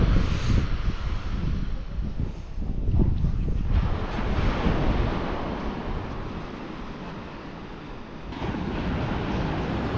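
Strong wind at sea buffeting a boat, a loud continuous roar of gusts and microphone rumble mixed with rushing water and surf, swelling and easing over ten seconds with no talking.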